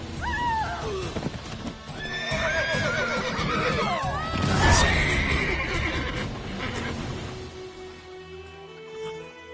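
Horses in The Witcher 3 neigh and whinny loudly several times over clip-clopping hooves, with a burst of chaotic game action in the middle before things quiet down.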